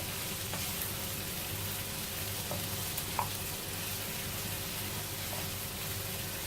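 Chicken pieces frying for Chinese chilli chicken, a continuous close sizzle and hiss with occasional faint clicks of a utensil, no voices.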